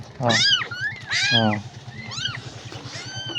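Small kittens give a run of high, rising-and-falling meows, several loud and close in quick succession, then softer ones trailing off over a low background hum.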